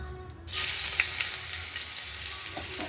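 Garlic dropped into a hot pan bursts into a loud, close, steady sizzle that holds evenly to the end.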